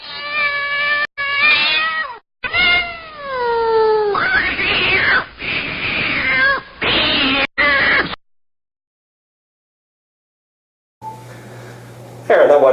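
A cat being shaved yowls and meows loudly and close by, with a string of drawn-out, wavering cries and harsh squalls. A short stretch of silence follows, then a brief noisy sound near the end.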